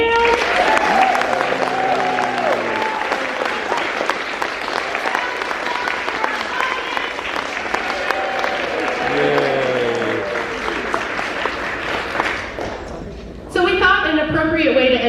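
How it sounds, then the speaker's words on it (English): Steady applause from a large audience for a civic concert band fills the whole stretch, with voices mixed in, then briefly drops away near the end. "And how about a round of applause for this band?"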